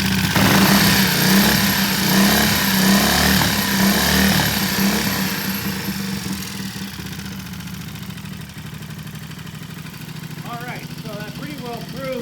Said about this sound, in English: Ready? Yeah, rev it up.